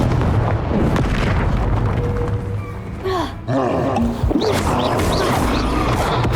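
Spell blasts and explosions crack and boom in the Hogwarts Legacy video game, layered over a dense, loud rumble of combat effects. Swooping magical tones rise and fall through the middle.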